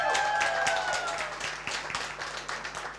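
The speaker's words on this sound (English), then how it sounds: "Let's hear a big round of applause for Mr. Zoran Bozanowski." Wedding reception guests applauding for the groom's father, a dense burst of many hands clapping, fairly close and lively, tapering slightly toward the end.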